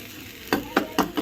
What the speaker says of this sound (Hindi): तो लो ये छौंक देती हूँ